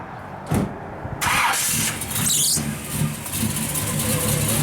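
A 1967 Chevrolet Chevelle SS resto-mod with a performance camshaft cranks briefly, then fires up and settles into a loud, lumpy idle with slight rev swells, heard up close.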